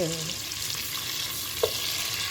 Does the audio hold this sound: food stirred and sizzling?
yes